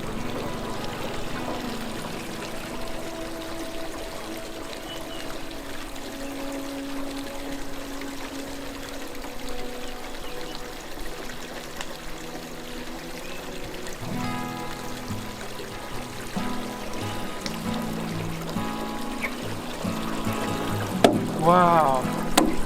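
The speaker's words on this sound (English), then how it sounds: "But the water is still flowing. It's still sucking from the river." River water drawn up from about 7 meters down gushes through a pump pipe into a tank, a continuous rushing, gurgling flow that grows busier partway through.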